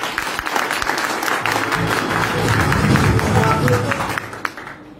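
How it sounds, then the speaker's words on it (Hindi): An audience at a business meeting breaks into applause, a dense, sustained patter of many hands clapping that swells and then tapers off, with a voice heard over it at times. "एक बार जबरदस्त ताली के साथ"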